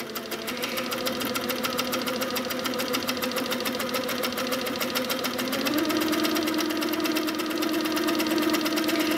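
A sewing machine free-motion quilts feathers, its close, steady motor hum and fast needle chatter running continuously, then stepping up in speed and pitch partway through.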